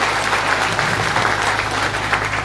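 Sustained crowd applause for a group of women at a political gathering in Kutch, steady and dense clapping throughout with no talk over it.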